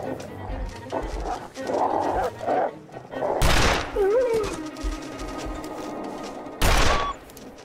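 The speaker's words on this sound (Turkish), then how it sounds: "kaçarken onu da vurdum" Rifle gunshots in The Long Dark video game, two sharp loud cracks a few seconds apart over game sounds, including a whining animal cry, while someone talks in between.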